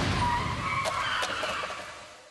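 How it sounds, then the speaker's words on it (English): A 2006-2009 Honda Civic in a side crash test: a short, sharp impact with a couple of crunching metallic hits and a brief scraping skid, then a fading rumble. "Now here's how this model does in the side crash test."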